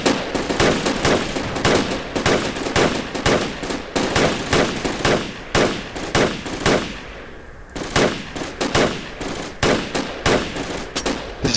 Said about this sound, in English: Open fire guys, open fire.